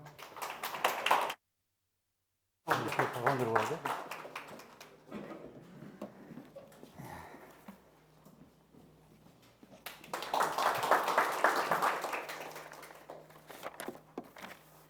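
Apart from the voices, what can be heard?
audience applause at a graduation ceremony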